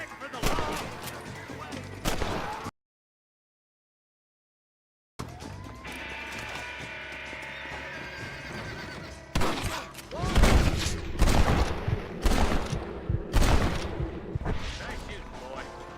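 Gunfire in the Western video game Red Dead Redemption, repeated loud gunshots and bursts cracking out, broken by a short silent gap, then denser volleys amid music and game ambience.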